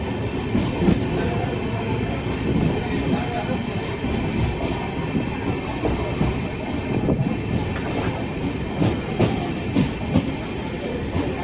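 The Sairang Express rolls into Murshidabad junction with a continuous rumble of wheels and car noise, faint clicks and a light squeal rising now and then, steady and close throughout.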